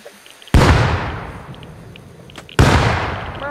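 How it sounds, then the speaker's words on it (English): Two sharp grenade blasts in a video game, each a sudden loud crack followed by a long rumbling decay, the second coming about two seconds after the first, with faint game sounds in between. "They threw a nade at you."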